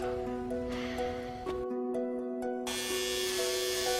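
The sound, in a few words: electric razor shaving hair off a head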